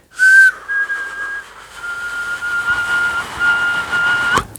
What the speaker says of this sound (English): Just like a weird wannabe whistle.